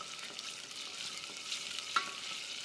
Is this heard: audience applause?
no